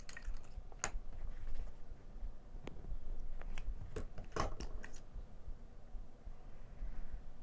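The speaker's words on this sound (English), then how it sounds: "I can use my scissors the rest of the time" Scissors cut through fabric in a quiet sewing session, giving a few faint, irregular snipping clicks over soft background noise.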